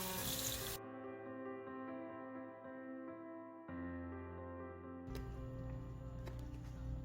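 Cold water runs from a kitchen tap into a sink in a steady, close rush, its tone shifting as the flow changes and then splashing more brightly at the end.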